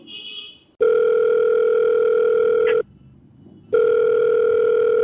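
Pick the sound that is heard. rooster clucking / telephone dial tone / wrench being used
telephone dial tone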